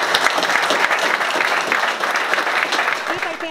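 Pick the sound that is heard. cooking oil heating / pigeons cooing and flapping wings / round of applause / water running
round of applause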